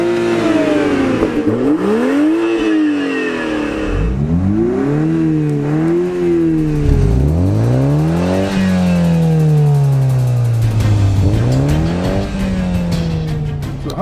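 A 2021 Toyota Supra in a drag race, its engine revving hard through repeated rising sweeps and gear changes, loud and close throughout with faint tire noise and no talk.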